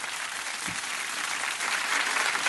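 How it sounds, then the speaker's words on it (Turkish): An indoor audience claps together in a kitchen cooking show, giving a continuous burst of applause that builds slightly toward the end, with no talking. "Erken geldi alkış."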